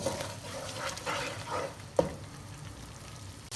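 A paste of garlic, ginger, onion, almond and green chili fries in a pan over a medium-low flame, giving a steady soft sizzle with faint stirring scrapes and one brief clack.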